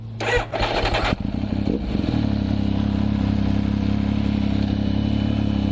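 A motorcycle pulling away as the clutch is released, a brief mechanical clatter of gear engagement followed by a steady, close engine drone that holds evenly as the bike moves off.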